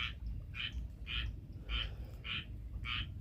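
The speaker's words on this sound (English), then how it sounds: "What's up, frog?" A frog croaks in a backyard after a severe thunderstorm, giving six evenly spaced rasping calls about half a second apart, moderately distant over a low rumbling outdoor background.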